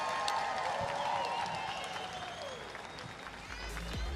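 Loud, sustained applause and cheering from a crowd at the TYR Wodapalooza Miami 2024 elite fitness competition, filling the whole stretch, with an announcer's voice faintly audible underneath.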